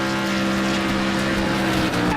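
Engine of a damaged car in the racing game Next Car Game, a loud, steady droning hum with strong tonal harmonics holding constant throughout, no talk.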